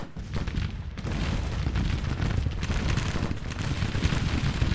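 Cannon bombardment in the Grand Tactician: The Civil War strategy game, a dense continuous rumble of distant booms and battle noise rolling on without pause and with no voice over it.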